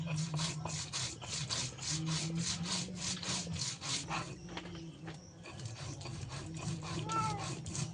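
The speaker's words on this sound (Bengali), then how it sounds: "জিরে বেটে নেব।" Cumin seeds ground on a grinding stone for a Bengali fish curry, a steady rhythmic scraping rasp of stone on stone, close and repeated in even strokes, easing briefly midway before resuming, with no speech.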